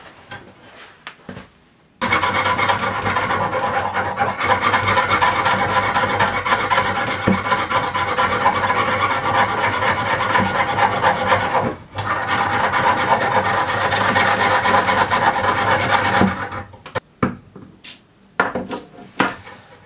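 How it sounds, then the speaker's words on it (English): A hand saw rasps steadily through metal while cutting out a small metal pendant, in a long continuous run of quick strokes, pausing briefly once before stopping. "I will take my saw here and start sawing."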